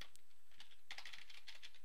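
Quick bursts of close keystrokes on a computer keyboard as an Excel function is entered, crisp rapid clicking over a short stretch with no talk.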